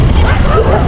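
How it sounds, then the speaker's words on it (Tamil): A dog gives a single short, loud bark, close by and heard alone. "நாய்"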